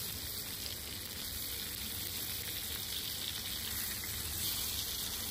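Fish, likely hilsa, fries lightly in a home kitchen pan, giving a continuous close-up sizzle of hot oil with fine crackling that stays steady and fairly loud throughout.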